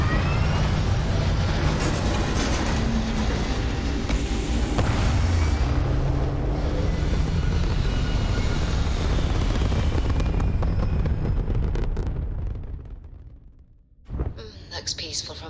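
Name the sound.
spaceship thrusters firing in a video game (Starfield)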